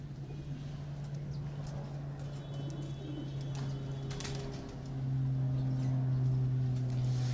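Pigeons on a rooftop in Rawalpindi give low, sustained cooing close by, swelling louder in the last few seconds, with faint traffic and occasional distant chirps in the background.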